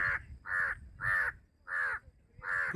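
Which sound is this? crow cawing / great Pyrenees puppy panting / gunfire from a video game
crow cawing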